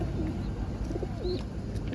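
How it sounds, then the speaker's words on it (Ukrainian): Soft pigeon coos murmur in the background amid low outdoor market noise and faint chatter, a few gentle bubbling calls. "Голуба. Високольотна птиця."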